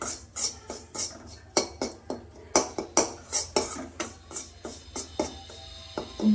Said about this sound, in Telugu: బాగా ఇట్లా కలుపుతూ ఉండాలి, అంటే మాడిపోకుండా కలుపుకోవాలి.